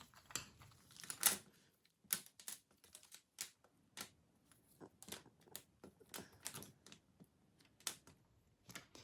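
Wooden popsicle sticks clatter as they are shuffled by hand, a string of sharp dry clicks and taps in irregular bursts, close and fairly quiet, with no talking.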